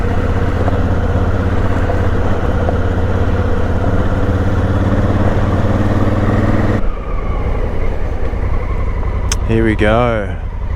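A motorcycle on a country road by the Clarence River runs with a loud, steady engine drone close by, then a gear change cuts the tone near the end as a rider speaks briefly.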